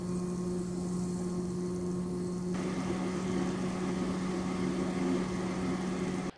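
A Dell OEM PC case fan runs flat out at full speed, a loud steady jet-like whoosh with a strong constant hum tone, unbroken for the whole stretch.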